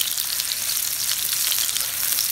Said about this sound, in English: Then we add the sliced onions, so we just fry it.